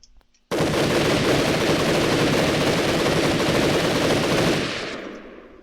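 A sustained burst of rapid automatic fire from a gun in After the Flash: Mirage, loud and unbroken for about four seconds before it trails off. No one speaks.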